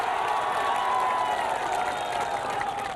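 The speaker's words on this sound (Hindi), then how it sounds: "तालियों के साथ स्वागत कीजिए इनका" A studio audience on a Hindi television political debate claps in sustained, dense applause to welcome panel guests, a steady wash of hand claps throughout.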